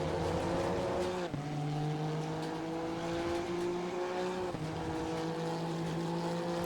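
Honda NSX EVO GT3 race car in Assetto Corsa Competizione at Imola, its engine droning loud and steady with rising pitch as it accelerates, a brief dip near the start and another shift partway through, no voices.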